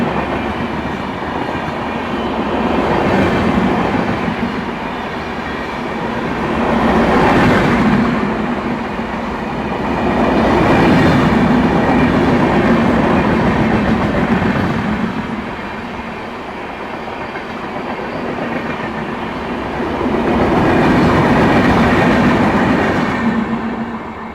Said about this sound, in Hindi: सब्जी मंडी स्टेशन अपनी ट्रेन पहुंच रही है धीमे धीमे